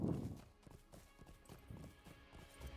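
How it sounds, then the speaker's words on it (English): Hooves of a horse running fast in an online survival game, a quick uneven clip-clop rhythm close by over quiet ambience, with brief faint voice sounds underneath. "I'm holding my horse, and look how fast I'm running."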